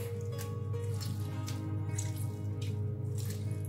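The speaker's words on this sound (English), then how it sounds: "So that's the lemon juice." Lemon juice squeezed out by hand for a lemon pepper chicken marinade: soft wet squishing with a few dripping sounds over a steady low kitchen hum, with no talking.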